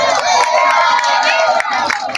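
A crowd cheers and claps in a dense, continuous roar with scattered sharp claps and shouts, loud and close for a couple of seconds.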